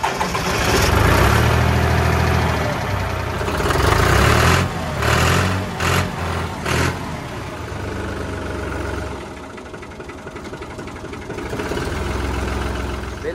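Tractor engine running hard as it is being worked to free it, a loud steady rumble with surging revs, alone without talk.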